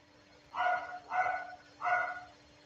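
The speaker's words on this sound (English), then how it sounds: "That's my dog. He's barking." A dog barks three times from a back room, evenly spaced woofs that sound muffled and somewhat distant against a quiet indoor hum.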